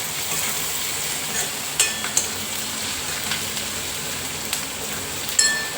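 Shredded cabbage fries for Manchurian in a hot pan with a steady sizzling hiss, and a utensil scrapes and clinks now and then as it is stirred.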